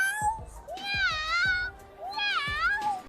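A voice imitates a cat, giving several drawn-out meows in a row, fairly close and clear.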